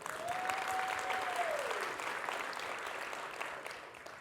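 A crowd at a startup demo day claps steadily in sustained applause, a dense even patter lasting several seconds with a brief tone at the start.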